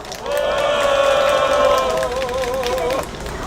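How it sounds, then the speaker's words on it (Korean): A crowd at an outdoor labor union press conference protesting unfair dismissals lets out a sustained, loud collective shout of cheering that lasts about three seconds before dropping off. "박수와 함성으로 다 같이 맞이하겠습니다"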